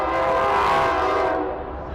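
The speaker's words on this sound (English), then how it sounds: "Train. That's loud." A train passes loudly and close by in a continuous rumble with a strong horn-like tonal blast that fades slightly toward the end.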